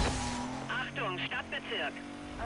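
A car accelerates through a tunnel in Need for Speed: Most Wanted, its engine a steady drone beneath someone talking over it for most of the moment.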